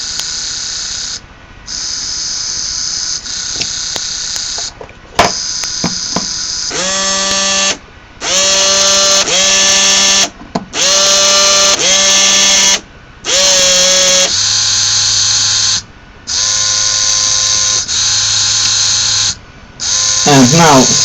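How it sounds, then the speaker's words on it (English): A small fischertechnik model motor whirs in repeated bursts with short pauses, its pitch sliding and dropping as it slows; a high hissing whine runs alongside and no one speaks. "Motor slowing down."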